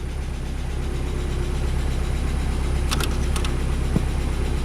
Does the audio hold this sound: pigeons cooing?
no